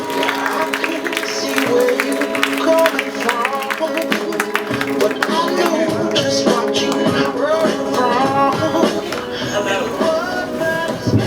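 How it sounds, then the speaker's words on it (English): A comedy club audience at LaMakaan, Hyderabad applauds a comedian walking on stage, dense clapping and cheering sustained throughout, with music or a tone beneath. "Please give him a big round of applause."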